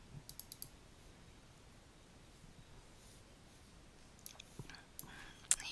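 A computer mouse clicking to open a file, a few quick faint clicks at the start and several more toward the end over a quiet background.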